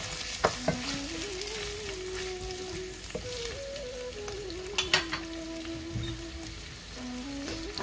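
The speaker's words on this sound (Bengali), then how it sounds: "এখানে পেঁয়াজটাকে আমি কুচি করে রেখেছি, এই যে দিয়ে দিচ্ছি। এখন পেঁয়াজটা একটু নরম হোক" Chopped onion frying in a pan, a steady close sizzle with occasional stirring scrapes and soft clicks of a utensil against the pan, running continuously with no voices.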